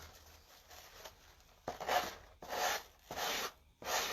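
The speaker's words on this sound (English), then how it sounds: "I'm going to take this little sanding block here." A small sanding block rubs in downward strokes around the edge of a Dollar Tree Valentine heart with an ironed-on design. After a quiet start come four close, rasping scrapes with short pauses between them.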